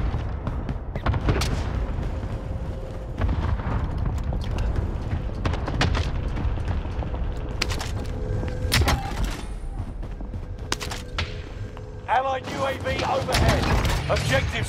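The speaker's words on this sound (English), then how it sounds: "Allied cluster strike arrived." Cluster strike blasts rumble through a Call of Duty Warzone match on Rebirth Island, with bursts of gunfire and booming explosions layered over steady low battlefield noise while in-game voices talk across it.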